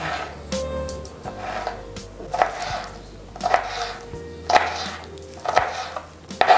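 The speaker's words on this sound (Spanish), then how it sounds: "Y lo cortamos ahí en pequeños cuadrados." A knife chops a bell pepper into small squares on a cutting board, giving a series of sharp, close knocks at an uneven rhythm of roughly one to two per second.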